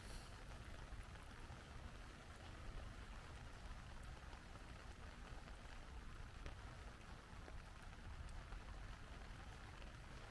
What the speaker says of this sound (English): It never stopped raining all day